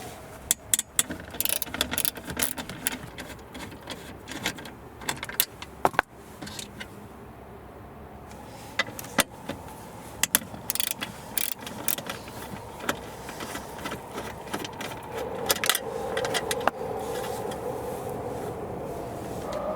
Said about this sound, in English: There are 2 10mm bolts that hold the panel in place. We'll use 10mm socket.